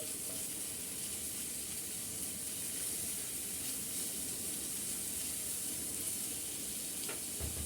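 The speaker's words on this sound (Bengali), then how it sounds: "আমি আদা রসুনটা একটু মিক্স করে নিচ্ছি" Ginger garlic paste sizzles in a hot pan while it is stirred, a steady, soft hiss with a faint crackle that keeps going without a break.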